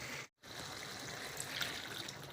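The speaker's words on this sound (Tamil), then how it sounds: "முருகன் இதில் கொஞ்சம் தண்ணி ஊற்றி அலசணும்" Water trickling and pouring into a jar to rinse out ground coconut while cooking a lamb lung kurma, a steady close liquid splash after a brief silent gap, with no talk.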